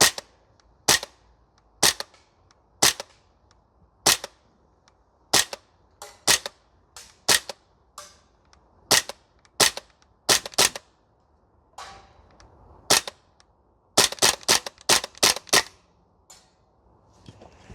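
Semi-automatic shots from an Archwick APC9K PRO gas blowback airsoft rifle on a range, a steady string of sharp, close cracks spaced about a second apart, ending in a faster cluster of rapid shots.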